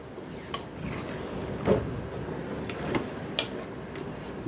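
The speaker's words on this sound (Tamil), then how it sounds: "மசாலாவும் தலைக்கறியுமா நல்லா வதக்கி விடணும்" Mutton head pieces sautéed with masala in a pan for a village-style curry, giving a steady sizzle and scrape with a few sharp spoon clicks against the pan.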